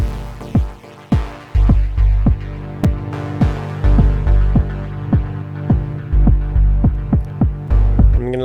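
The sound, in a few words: Timeless Ambience synth pad in Dub Diva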